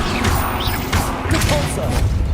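Combat spell effects in the fantasy game Hogwarts Legacy, a dense run of crashing, whooshing and thudding magic impacts packed into a couple of seconds, loud and close, mixed with voices.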